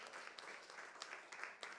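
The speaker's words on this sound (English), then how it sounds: "let's give our lovely panelists one last round of applause" An audience at an art therapy symposium gives panelists a brief round of applause, a soft, somewhat distant patter of many hands clapping in a quick burst with no voices over it.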